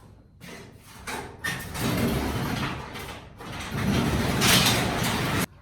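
A workshop door hauled open in a warm shop, producing a long rolling, rumbling slide in two loud pushes that ends abruptly with a thud, close by and without speech.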